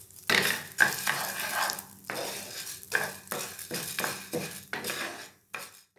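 Moong dal roasting in ghee in a pan, stirred with a metal spoon: repeated scraping and clinking strokes against the pan in an irregular rhythm over a soft sizzle, close and fairly loud, with no talking.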